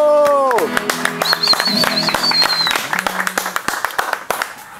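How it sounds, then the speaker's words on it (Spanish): Audience applause breaks out at a live performance as a sung note ends, a crowd clapping in a dense patter that thins and grows sparser toward the end, with voices and cheering mixed in. "¡Aplausos!"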